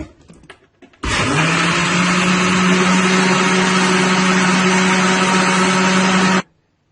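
A mixer grinder grinds fenugreek seeds and kalonji, roaring on abruptly after a few light clicks, holding a loud steady whine for about five seconds, then cutting off.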